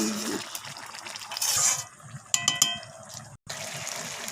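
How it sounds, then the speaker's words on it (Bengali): Water is poured into a pan of lote fish (Bombay duck) curry with potatoes as it cooks, a short splashing pour among kitchen clatter and soft background sounds. "আমি একটু জল দিয়ে দিলাম।"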